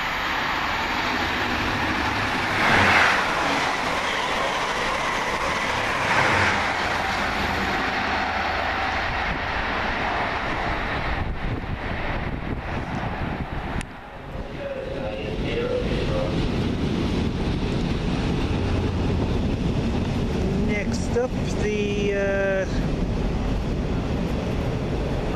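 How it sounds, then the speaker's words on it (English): A train races past on the fast line at Peterborough station, a long loud rushing roar with wind buffeting the microphone, easing off midway before rising again as carriages rumble by and wheels squeal near the end. "Come flying up on the fast line, 1 November 94 from London King's Cross to Sunderland."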